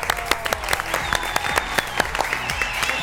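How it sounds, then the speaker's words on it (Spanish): A studio audience applauds two models on an Argentine TV variety show, steady close clapping with sharp individual claps throughout, a faint whistle-like tone running underneath. "Vamos a aplaudir a las dos modelos acá."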